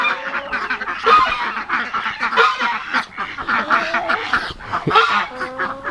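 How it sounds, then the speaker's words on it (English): Muscovy ducks call back and forth at close range, a steady jumble of hoarse honks, hisses and chatter that overlap continuously with no pauses. "Funny how they talk to each other."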